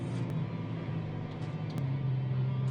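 An aircraft pushback tug drives up toward a parked plane, giving a steady low diesel rumble with a constant hum, close and moderately loud throughout.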